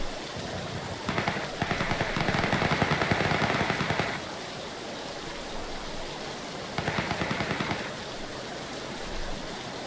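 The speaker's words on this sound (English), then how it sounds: "I get nervous when I hear gunshots." Two bursts of rapid gunfire crackle in the video game PUBG, the first long and sustained, the second shorter, over a steady noisy background.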